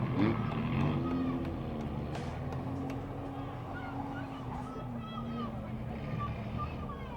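Race cars at a speedway enduro, including an 08 Dodge Charger and an Audi A6, engines droning and revving at a distance under a commentator's steady speech and crowd murmur.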